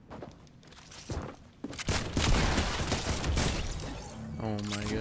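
Gunfire in an online shooter video game, a dense burst of shots and clatter building to a loud sustained barrage, with a short rising tone near the end and no voices.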